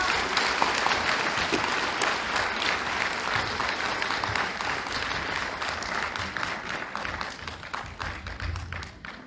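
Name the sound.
audience applause welcoming the speaker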